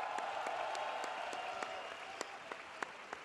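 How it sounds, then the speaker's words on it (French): An audience at a political festival applauds warmly, a dense, even patter of many hands with a few sharper claps standing out toward the end. "qu'on peut applaudir bien fort, messieurs, dames"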